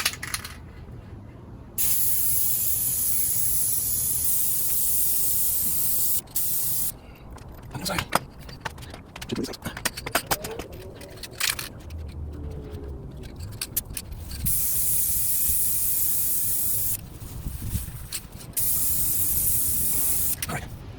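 Spray paint hisses onto the roof of a 2011 Jeep Grand Cherokee in several long, steady bursts separated by short pauses, with faint clicks and handling noises between passes.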